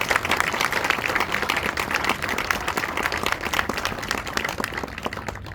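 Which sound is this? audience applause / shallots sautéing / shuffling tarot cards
audience applause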